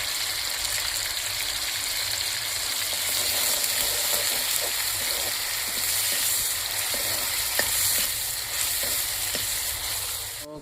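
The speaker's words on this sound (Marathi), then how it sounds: "कांद्याची पेस्ट फ्राय झालेली आहे छानपैकी" Onion paste fries in a pan with a steady, dense sizzle that holds at an even level throughout, with a few faint clinks and stirring scrapes and no voices.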